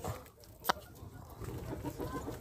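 Chickens fed gingerbread cluck softly and scratch about nearby, with one sharp louder call standing out amid the faint, busy flock noise.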